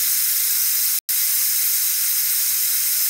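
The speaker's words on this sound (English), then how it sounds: "It builds steam and then it lets the steam out." Steam hisses steadily out of a kitchen vent, a loud, continuous rush of broadband noise that breaks off for an instant partway through and then resumes.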